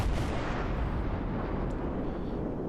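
Main guns of a Cleveland tier 6 cruiser firing in World of Warships, one heavy booming blast that rolls off into a long fading rumble, loud and close.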